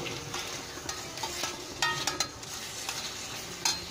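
Potatoes fry in spiced oil while being stirred, a moderate sizzle broken by several sharp scrapes and knocks of a utensil against the pan.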